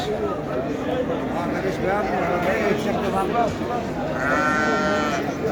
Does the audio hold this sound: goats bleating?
yes